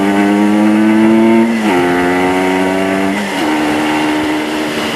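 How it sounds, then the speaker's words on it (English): A 1976 AMF Harley Davidson Aermacchi SS 250 two-stroke motorcycle engine buzzes loudly and close, holding a steady pitch, then easing down in two gear-change dips as it putters along. "I'll shut up and give you some 2-stroke music."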